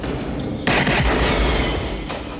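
Gunshots in the 1993 action film trailer Point of No Return: a loud, dense burst of booming shots with heavy, echoing reports, alone without talk.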